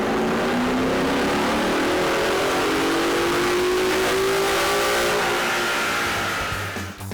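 2011 Ford Mustang GT automatic with a C&L cold air intake and VMP 93 octane tune, revving hard on a chassis dyno, a loud rising engine roar through the gears that drops away at the end.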